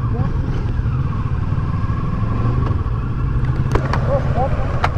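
A 2018 Kawasaki Versys 650 ABS Tourer motorcycle engine-braking on a road rumbles steadily as it coasts down, with wind noise and a few sharp clicks, and voices murmuring over the intercom.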